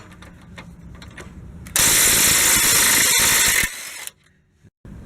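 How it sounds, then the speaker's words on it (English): An impact wrench on a 3-inch extension removes 16mm bolts under a 2007-2013 Nissan Altima during catalytic converter work. One loud, close, rattling burst lasts about two seconds, followed by fainter mechanical clicks and then near silence. "for me, it's easy to use a impact with a 3-inch extension"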